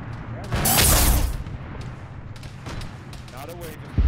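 Plasma fire strikes near the player in ARMA 3 with a Warhammer 40k mod, a loud booming burst followed by fainter distant impacts, with voices talking over the combat.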